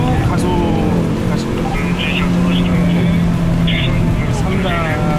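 A Hyundai Veloster N accelerates hard in second gear around the Inje Speedium circuit, its engine a steady loud drone rising in pitch, heard from inside the cabin under continuous conversation between driver and instructor.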